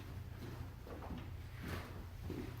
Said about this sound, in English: I'm gonna run across the garage and close my door a bit.